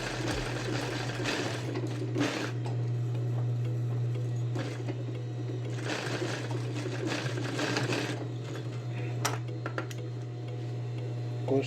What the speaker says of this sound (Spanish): Voy cosiendo por la orilla de la entretela para tener facilidad a la de voltearlo.